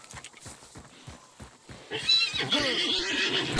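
A horse neighs and whinnies loudly in the video game Hunt: Showdown, its rising, quavering call arriving after a few seconds of quieter game sounds and staying close and prominent to the end.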